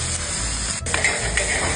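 Shrimp sizzle in butter on a hot saj pan: a loud, close, continuous hiss, briefly dipping once, then spitting and crackling with faint utensil clinks.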